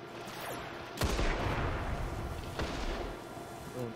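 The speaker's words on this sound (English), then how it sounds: "Ooh, nice, a grenade kill." Destiny Crucible multiplayer match: a sharp grenade blast lands at about one second, with a second burst later, over a steady rattle of close gunfire.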